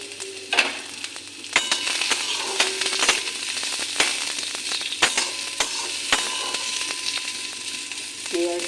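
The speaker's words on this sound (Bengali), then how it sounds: "কাঁচা লঙ্কাটা ভালো করে ভাজা করে নিই" Chopped onion and green chillies fry in hot oil, giving a steady close sizzle broken by sharp clinks and scrapes of a spatula stirring the pan.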